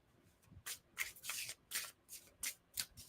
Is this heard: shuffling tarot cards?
yes